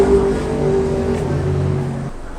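A Proton X70 SUV pulls back into a workshop after a test drive, its engine a steady low drone with a faint whine running close by before cutting off near the end, no voices.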